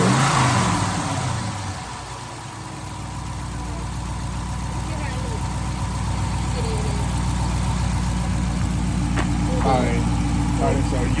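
A 2016 Dodge Charger RT with its first modification sits at a deep, rumbling idle, loud and close, while a voice talks briefly over it. The engine dips, then holds a steady throaty drone.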